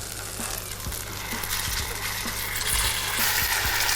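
Apples sizzling in melted butter in a pan for a tarte tatin, a steady close frying hiss with soft periodic thumps beneath.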